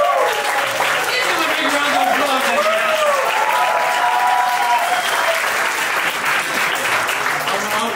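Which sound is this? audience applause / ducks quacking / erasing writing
audience applause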